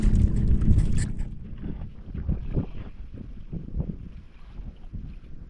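Gusty wind buffets a microphone on a small fishing boat at sea, loud low rumbling bursts that ease off into softer, uneven gusts with faint water and hull noise beneath.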